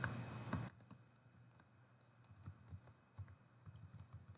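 Typing on a computer keyboard to enter a comment in Word 2019, with a brief loud burst at the start followed by a steady run of quieter, close key clicks alone.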